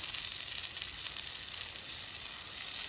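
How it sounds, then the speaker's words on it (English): A pressure washer sprayer switching over to a new 6% chemical gives off a faint, steady hissing sizzle that stays even and unbroken from start to finish. "We'll probably get a little sizzle here in a minute as we transition."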